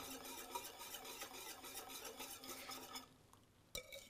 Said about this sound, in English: I'm going to whisk vigorously as I do that.